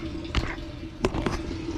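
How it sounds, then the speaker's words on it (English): Water pours out of an upgraded, larger drain valve on a hydroponics system, a steady splashing flow under constant background noise, with a few louder gurgles and splashes standing out. "Now you see the water coming out there a lot faster on this end."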